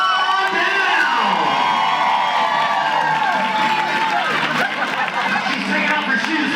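A loud crowd cheers and shouts continuously at a United Way game show campaign kickoff, with excited whoops and high-pitched yells over steady babble and some clapping.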